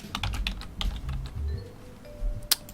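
Rapid clicking of keys on a computer keyboard, irregular bursts of typing with brief pauses, close and moderately loud, with no talking.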